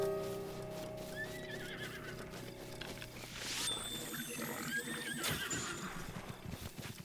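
A horse in Zelda Breath of the Wild gives a loud whinny over game music and ambient effects, with hoof clip-clops around it.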